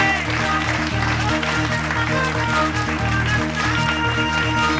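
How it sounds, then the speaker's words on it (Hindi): An awards-night crowd at a hotel in Lucknow claps steadily beneath loud rhythmic music with a pulsing beat, the applause partly masked by the music. "एक बार जोरदार तालियां।"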